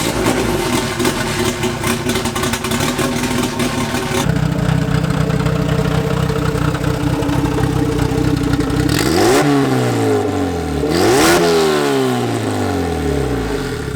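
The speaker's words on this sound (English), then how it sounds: "Let's start it and see if it leaks or anything." A turbocharged Honda Civic engine idles with a steady, rough rumble, then blips the throttle twice in quick revs that rise and fall, close and loud, with no talking.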